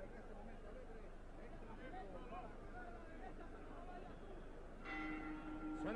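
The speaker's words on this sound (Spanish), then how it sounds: "suena la campana finalizando el cuarto." Boxing ring bell sounding to end the fourth round at a 1978 WBA featherweight world title fight in a Panama City gymnasium, a few ringing strikes near the close, heard over steady crowd hubbub and commentary.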